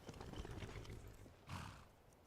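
A horse in Skyrim, a fantasy video game, with soft clip-clopping hooves and a snort or whinny near the middle, faint and close, with no talk over it.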